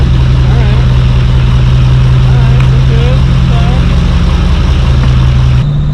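A 6.0 Powerstroke diesel work truck rolls off on a test drive, its engine droning loud and steady up close with a constant low hum, while a person talks over it.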